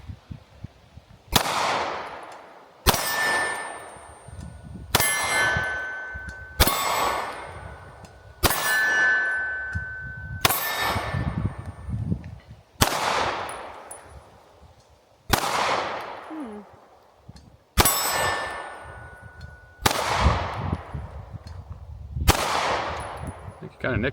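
Canik MC9 pistol shots strike steel targets outdoors: about a dozen sharp cracks, each followed by a bright metallic clang that rings out, spaced a second or two apart.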